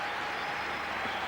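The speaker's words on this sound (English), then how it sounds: "It's the adulation from the crowds." A stadium cricket crowd at the 1996 World Cup quarter-final between Australia and New Zealand in Chennai applauds at the end of an innings, producing dense, steady distant clapping with no break.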